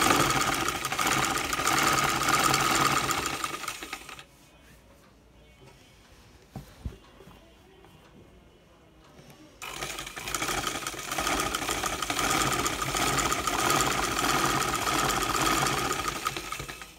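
A sewing machine stitches the side seam of a silk kameez, running steadily and loudly, pausing for a few seconds, then resuming its rapid whirring hum.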